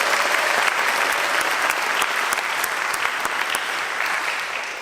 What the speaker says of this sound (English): I think we should all just give a round of applause for that